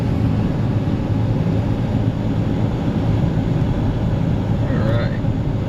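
A cheap, bone-stock supercharged car with an old blower belt is being driven. A steady, dense drone of engine and road noise fills the cabin, close and continuous, with no clear surge of acceleration.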